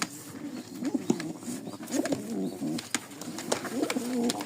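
A pair of Lakha pigeons coo softly nearby in repeated low, rolling phrases, with faint clicks and rustling in the background and no talk.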